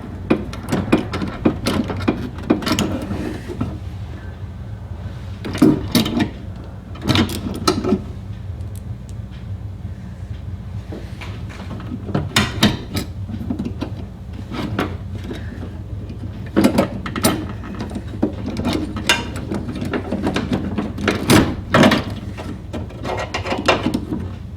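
Small screws are driven back into the liftgate lock actuator of a 2002 Chevy Trailblazer, heard as scattered clicks, taps and scrapes of metal parts and tools, fairly quiet and irregular, with no talking.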